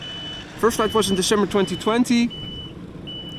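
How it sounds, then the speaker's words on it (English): A rental van reverses close by at an airport, its steady reversing beeps repeating in a regular pattern while someone talks over them. "what you're hearing is a rental van that is reversing right next to me"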